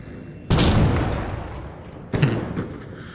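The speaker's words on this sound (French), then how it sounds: "Ah, on m'a lancé une grenade." A grenade explodes in a PvP shooter game, a sudden loud close blast that trails off, followed by a second, smaller burst a moment later.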